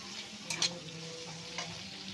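Vegetables for mixed fried rice fry in a wok, giving a quiet, steady sizzle with a couple of brief scraping stirs; nobody talks.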